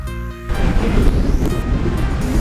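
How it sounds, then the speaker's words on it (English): Massive ocean waves viewed from a cruise ship, a dense broadband roar and wash that builds after a brief tonal hum and continues loudly, mixed with wind buffeting on the microphone. "These waves are massive."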